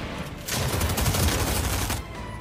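Rapid gunfire from a video game crackles in a dense burst lasting about a second and a half, loud and close, with no voices over it.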